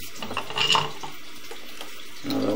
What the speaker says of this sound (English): You can see the bath sink dripping down into the waste sink.